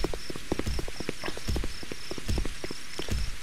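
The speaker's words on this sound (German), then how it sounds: "Hört ihr mal die Schritte." Footsteps in a video game, a steady run of crisp close steps with short clip-clop-like impacts, walking alone with no talk.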